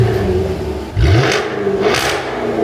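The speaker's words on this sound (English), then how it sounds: "let's do that V8 real quick" A Jaguar F-Type R's V8 engine revving twice in short, sharp blips, close and loud, with a rising whine on the first rev and a throaty burst on the second.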